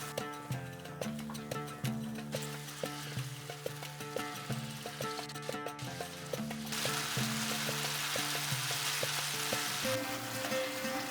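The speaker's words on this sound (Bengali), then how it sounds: "এরপর হালকা হাতে এগুলোকে একটু নাড়াচাড়া করে দিচ্ছি যাতে এপিট ওপিট করে ভাজা হয়ে যায়।" Marinated paneer pieces fry and sizzle in a pan over a medium flame, with a steady crackle, soft stirring and repeated light ticks close up, and no talking.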